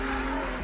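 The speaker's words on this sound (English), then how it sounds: "Sweet bit of BMW drifting." A BMW car drifting, its tyres squealing loudly in one brief, continuous burst over engine roar, close and with no talk.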